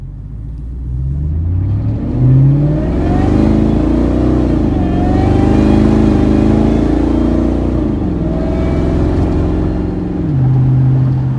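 A supercharged Ford Lightning pickup revs loudly and steadily up close, the engine rising and falling through several pulls with a strong low rumble and a constant supercharger whine over about eleven seconds.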